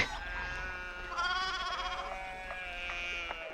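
Sheep bleat in the medieval village setting of the video game Pentiment, several wavering calls overlapping near and far over a steady low background hum, with no talk.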